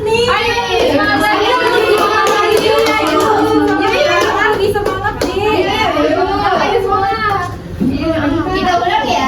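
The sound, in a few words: children clapping the tepuk semangat rhythm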